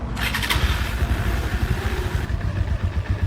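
A Bajaj Pulsar NS400 motorcycle riding on the highway, its engine a loud, close, throbbing rumble with a fluctuating note and some wind rush, no talk.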